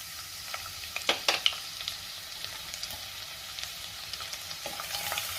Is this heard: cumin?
yes